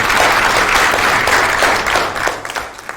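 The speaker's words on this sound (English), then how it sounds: "Let's give a hand clap to those" Loud audience applause at a talent show event as the judges are introduced, dense clapping from a large crowd sustained for several seconds before thinning out and fading near the end.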